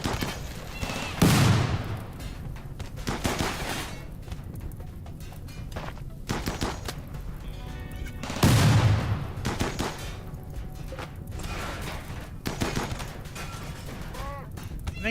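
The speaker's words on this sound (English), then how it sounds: "Run, let the turrets shoot him." Turrets fire in RimWorld in two loud bursts of gunfire a few seconds apart, with mechanical clatter and background game sounds between them.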